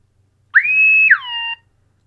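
A single electronic beeping tone from a Flysky radio transmitter's tilt alarm sounds for about a second, holding steady then dropping slightly in pitch before cutting off, clear against near silence.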